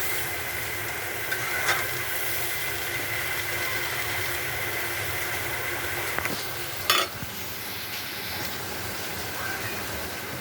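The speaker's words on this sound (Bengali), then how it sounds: "এবার পাতাকপি সব একসাথে নেড়ে চেড়ে মিশিয়ে দেবো" Cabbage and mixed vegetables are stirred together in a pan, a steady frying hiss underneath with a few scraping clacks of the utensil, close and continuous with no talking.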